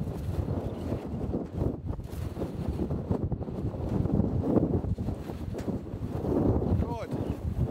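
Storm wind roars in Scotland, buffeting the microphone in a dense, continuous rush with gusty swells, loud and close throughout.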